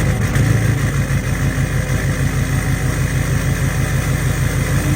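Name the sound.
Duramax engine with 9-blade turbo starting up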